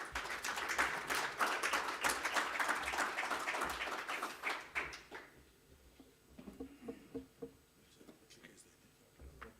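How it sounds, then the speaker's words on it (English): Warm applause from a biomass industry conference audience, dense clapping for about five seconds before fading into a few scattered claps and quiet room sound. "Please give him a warm round of applause."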